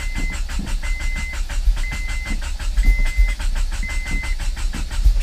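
Turbocharged Honda Prelude engine cranking and trying to start, a loud rhythmic chugging of the starter repeating over and over with bursts of engine rumble, close by.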